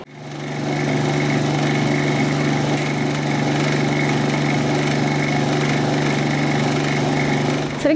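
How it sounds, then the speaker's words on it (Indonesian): A spinner machine de-oiling fried shallots runs with a steady, loud motor drone and a constant hum from start to finish, close and unbroken. "Baru setelah itu terakhir kita finishing di mesin spinner."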